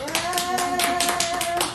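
Brief burst of many hands clapping together in a dense, steady patter at a seminar, with a faint sustained tone running underneath.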